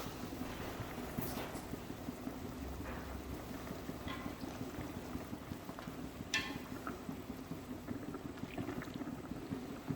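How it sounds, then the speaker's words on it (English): A steady bubbling simmer of chicken pulao broth in a pot, constant low churning with occasional small pops and clinks, close by, no voices. "As you can see, it's boiling."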